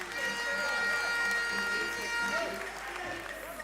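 An audience at a university gas-industry quiz competition semi-final applauds, a steady dense wash of many hands clapping, moderately loud, with crowd voices mixed in.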